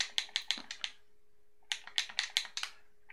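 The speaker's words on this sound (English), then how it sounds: "Sorry for the clicking of my controller here, as if you have a Series X controller, you can probably understand these controllers are a little loud" Xbox Series X controller buttons click in two quick bursts of sharp, close taps, a gap of quiet between them, with no voices.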